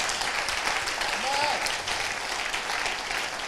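A church congregation applauds during a service, dense sustained clapping filling the room with a crowd murmur and a faint raised voice underneath.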